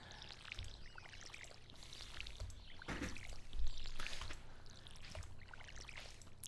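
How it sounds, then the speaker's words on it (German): Watering crops with a watering can in the Stardew Valley farming game: a steady pouring, splashing water sound that runs through the whole stretch, swelling slightly in the middle. "Und dann erstmal nochmal gießen."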